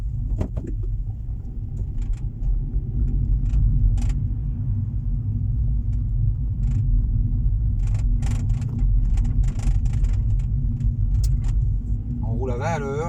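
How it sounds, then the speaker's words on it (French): Low, steady rumble of a car rolling slowly at about 20 km/h through the streets of Dijon, with scattered clicks and clatter inside the cabin, a brief whine near the end, and someone speaking at times. "On roule à 20 à l'heure dans les rues de Dijon."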